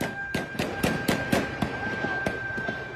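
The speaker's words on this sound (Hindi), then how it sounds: "ये फायरिंग की जा रही है" Gunfire during a street clash between protesters and police in Pakistan-occupied Kashmir: a rapid string of sharp, cracking shots, about a dozen irregularly spaced reports over a steady crowd-noise background.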